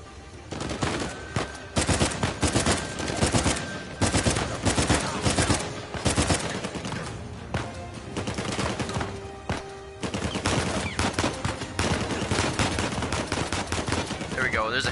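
Sustained gunfire in the video game Uncharted 4, loud close machine-gun bursts and single shots packed tightly together across the whole stretch, with brief dips between volleys.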